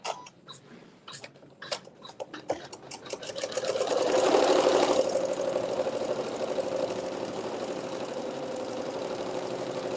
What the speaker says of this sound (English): This will just sew some decorative stitching.